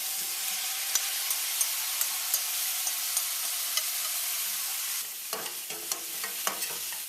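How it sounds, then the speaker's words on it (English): Seasoned crab pieces stirred through curry in a hot pan over medium heat: a steady sizzle with regular spoon scrapes, turning into louder, busier clatter and stirring toward the end. "this is where we're going to start adding that seasoned crab"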